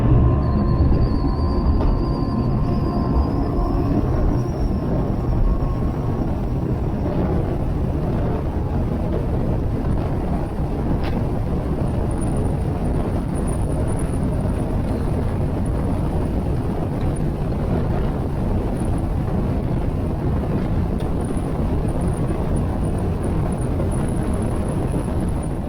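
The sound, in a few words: Checkmate boat running with new Laser II 25 pitch prop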